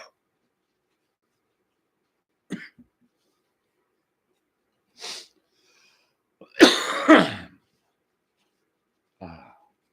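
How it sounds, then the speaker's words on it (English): A man sniffs several times, in short isolated bursts separated by silence, close to the microphone, with one louder, longer sniffing or breathy burst in the middle. "the sound of me sniffing is none too"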